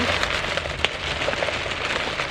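LECA clay pebbles for houseplants spilling and tumbling, a dense patter of small hard balls rattling and skittering continuously, with one sharper click, close and fairly loud.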